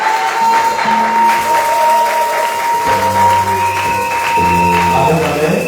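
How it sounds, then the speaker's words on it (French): A church congregation gives a brief, modest round of applause and acclaim, clapping mixed with scattered voices and a sustained musical tone underneath. "Un peu d'acclamation timide."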